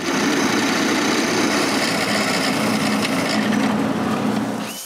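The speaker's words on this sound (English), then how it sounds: "Now, I just need to drill them." A power drill bores holes in a walnut clock frame, loud and continuous throughout with a dense, whirring tone that eases off at the very end.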